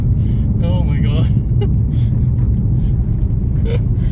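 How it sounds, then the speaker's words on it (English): BMW G80 M3 Competition, rear-wheel drive, making a launch control start with heavy wheel spin: a loud, steady engine roar and rumble that fills the whole clip, with a voice speaking briefly over it near the start. "There's so much wheel spin."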